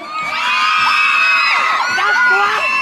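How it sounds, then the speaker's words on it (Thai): A large crowd screams and cheers loudly, high-pitched shrieks and whoops overlapping continuously, close and energetic throughout. "ขอเสียงกรี๊ดดังสีฟ้าเลยครับผม"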